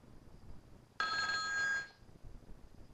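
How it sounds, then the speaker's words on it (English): A telephone rings once, a single electronic ring lasting about a second, close and fairly loud against a quiet room background. "Sorry, I got an important phone call."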